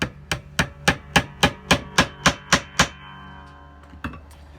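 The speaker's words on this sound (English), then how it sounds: "I'm going to tap it in with a hammer" About ten quick, evenly spaced metallic taps of a hammer driving a fret position marker into a guitar neck, ringing slightly, then a pause and two more taps.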